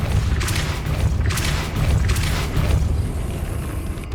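A Depulso force spell cast in Hogwarts Legacy, heard as a string of booming magical bursts over a dense, continuous rumble of game effects and music.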